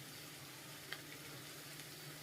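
Mushrooms sizzle softly in a pan of curry masala as they are stirred, a steady faint frying hiss with one brief clink of a spoon.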